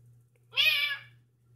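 A single clear cat meow, close and fairly loud, lasting about half a second, with a steady low hum in the background.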